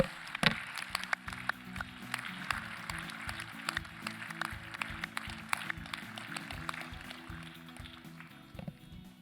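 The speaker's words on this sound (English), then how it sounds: "please rise and get a round of applause" An audience at a supercomputing conference applauds the competition winners, dense continuous clapping from many hands that fades toward the end.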